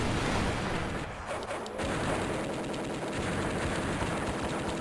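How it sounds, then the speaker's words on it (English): Constant gunfire from a SEGA Saturn shooting game rattles on as a dense, continuous barrage of rapid shots, loud and unbroken, with only a brief dip near the middle. "Like, I gotta be shooting constantly."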